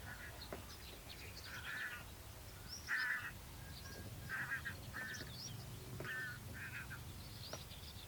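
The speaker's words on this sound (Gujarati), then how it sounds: "એ સુંદર રીતે પોલ પર બેસી અને કોલ આપી રહી હતી." An ashy-crowned sparrow-lark perched on a pole gives a series of short, thin chirping calls at irregular intervals. The calls are faint and somewhat distant over a low background hum.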